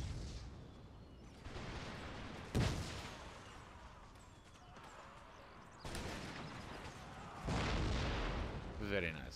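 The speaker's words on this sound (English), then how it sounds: "Good shooting cannon." Cannon and artillery fire in the Empire Total War video game with the Imperial Destroyer mod, Prussian campaign: several booming volleys a few seconds apart over a continuous battle din, with someone talking throughout.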